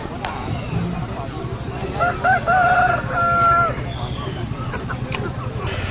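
A rooster crows once, loud and near, at a busy rural haat market in Kharagpur, rising over constant crowd chatter and nearby talking.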